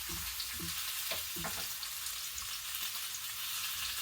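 Sausage, potatoes and carrots frying in a skillet, a steady close sizzle and crackle with a few soft knocks of stirring early on.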